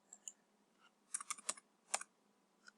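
Computer keyboard keys typed in a few quick, light clicks, a short cluster of close, faint taps with brief gaps, no voices.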